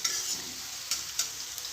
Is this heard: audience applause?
no